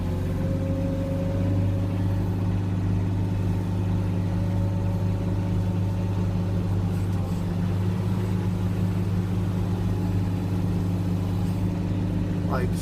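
A vehicle idling and driving as it is turned around, with a loud steady low engine drone and hum running throughout at close range, with occasional talking.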